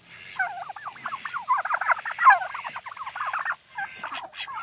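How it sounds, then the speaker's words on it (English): Turkeys gobble loudly in rapid, rattling bursts, several calls overlapping for a few seconds before tapering off. "When a rooster crows or something like that, he'll gobble."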